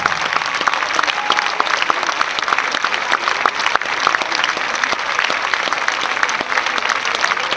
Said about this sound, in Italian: Godetevi questo applauso.